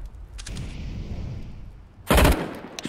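In a video game, a thrown flashbang grenade bursts with a loud, sharp bang after a stretch of low rumbling ambience, followed by a faint clatter.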